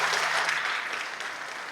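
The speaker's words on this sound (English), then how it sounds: "yes, you can applaud that" A church congregation claps together during a sermon, a steady, dense wash of applause that stays fairly even for its brief length.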